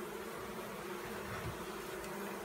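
Honey bees buzz as a steady, faint, continuous hum during a hive cutout rescue while the combs are handled, with no voices over it.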